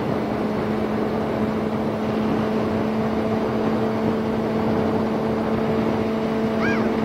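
A Suzuki GSXR motorcycle cruising on the road in 4th gear gives a steady engine drone with constant wind and road noise throughout, with no shifts or breaks.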